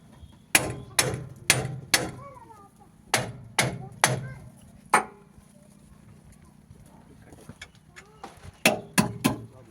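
Sharp metallic hammer-like strikes while loosening truck axle hub bolts, coming in quick rhythmic clusters of loud, close blows separated by short pauses.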